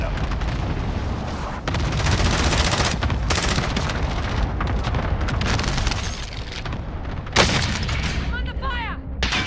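Heavy gunfire and booming blasts from a chaotic video game firefight, loud and nearly continuous with rapid bursts layered over one another.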